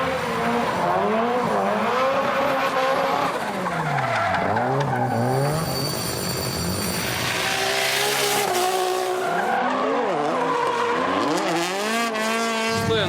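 Drift car sliding through a run at a Japanese drifting event, with tires squealing loudly and the engine revving and wailing up and down, continuous and close with no talk.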